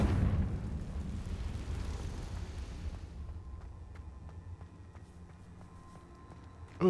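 A Confringo blasting spell explodes in Hogwarts Legacy: a loud, booming blast that rolls off into a rumbling decay over several seconds, then quiet game ambience with light chimes.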